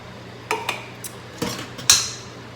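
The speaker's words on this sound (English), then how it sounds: "Dump in our tomatoes." Canned tomatoes go into a crock pot for chili, heard as a few close clinks and knocks of metal against ceramic, with a sharper clatter near the end.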